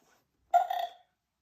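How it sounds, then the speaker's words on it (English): A cartoon pig gives one short, sharp burp after lunch, loud and close. It rises suddenly out of silence and lasts about half a second before cutting off. "Burps Peppa."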